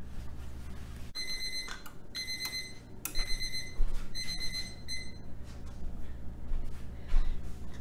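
A kitchen timer goes off for banana bread cookies baking in the oven, ringing in four repeated bursts of high electronic beeps with short gaps, close and clear over faint room noise.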